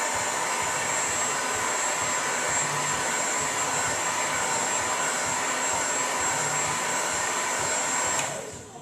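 A handheld blow dryer runs as a steady, loud, even whoosh while it dries chalk paint on a vertical wooden welcome-and-home sign, then cuts off abruptly at the end.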